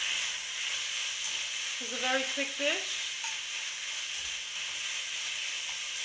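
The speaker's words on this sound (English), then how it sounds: "at this point you're just stir frying it just for a minute or two" Garlic stir-frying in a pan for buljol sizzles and hisses steadily throughout, with a brief stretch of speech in the middle over the frying.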